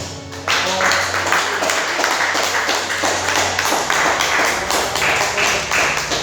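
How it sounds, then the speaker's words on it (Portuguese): A congregation at a family church service breaks into hand clapping after a brief quieter moment. The clapping is brisk and continuous, crowd-sized and close, over a low sustained hum. "desocupa as suas mãos e aplauda o Rei da Glória"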